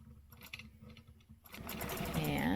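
Sewing machine stitching a quilting stencil design along a ruler, starting quiet with faint taps and rising at about 1.5 seconds into a loud, steady whirring run that holds to the end.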